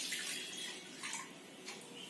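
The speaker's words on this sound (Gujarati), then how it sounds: "હવે એની અંદર આપણે એક ગ્લાસ પાણી નાખીશું।" A glass of water is poured into lemon juice to make lemon sharbat, a soft splashing stream that surges and eases a few times, quiet and close with no voices.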